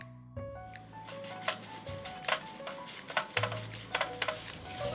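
Kashmiri dried red chilies and spices dry-roasting in a pan on low flame, soft crackling and sizzle with light spoon scrapes and clinks against the pan, fairly quiet and close.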